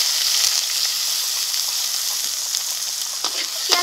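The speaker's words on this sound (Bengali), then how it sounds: "পেঁয়াজটাকে এখন ভেজে নেব।" Chopped onion frying in hot oil spiced with whole cumin, whole garam masala and a bay leaf, giving a loud, steady close sizzle with occasional faint stirring scrapes.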